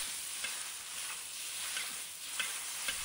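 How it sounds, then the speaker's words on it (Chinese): Rice noodles stir-fried over high heat with soy sauce and oyster sauce, a steady bright sizzle with occasional faint scrapes of the spatula, close and unbroken, no voice. "开大火猛炒"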